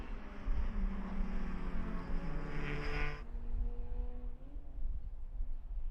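A race car engine drones and passes at a distance on a racetrack during a GRIDLIFE track event, with a steady rumbling hum that shifts in pitch partway through.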